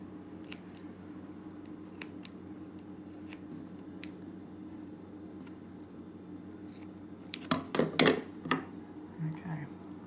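Knife or scissors cutting through soft beef heart, a quiet run of close crisp snips and clicks clustered near the end, over faint background hum.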